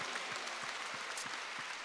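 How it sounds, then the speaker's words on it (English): A church congregation claps their hands during a worship service, soft and distant, with a few slightly sharper claps standing out from the even patter. "somebody clap your hands to Jesus"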